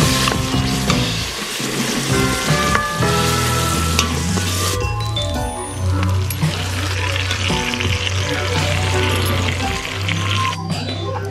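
Pot roast with Worcestershire sauce is stirred in a pressure cooker, a continuous loud sizzle mixed with stirring and scraping, steady and close throughout.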